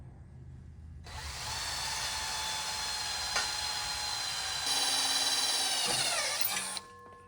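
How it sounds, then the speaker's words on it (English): A power drill bores holes in a metal brake master cylinder bracket: two close, loud, steady whining runs of about two and a half seconds each, the second slightly higher, ending abruptly with no speech. "I'll go ahead and just drill these out real quick so I don't lose my marks."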